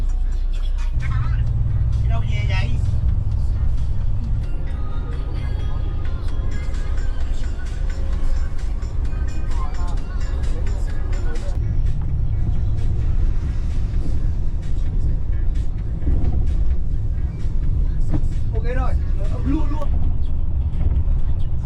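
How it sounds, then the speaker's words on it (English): A bus travels the countryside roads of Vietnam on the long trip from Dak Lak to Da Nang, with a steady, loud low engine rumble and road noise running throughout and occasional voices talking underneath. "The bus slowly moved through the countryside roads."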